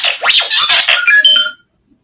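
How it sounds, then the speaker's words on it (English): A phone ringtone plays loud and close as a bright, warbling electronic melody that runs steadily for about a second and a half, then cuts off into silence. "That was my phone."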